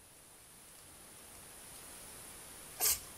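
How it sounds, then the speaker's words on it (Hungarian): A fox sneezes once, a short sharp burst near the end, beside a remote woodland watering hole, caught on a trail camera amid faint steady background hiss. "Tüsszentett is egyet."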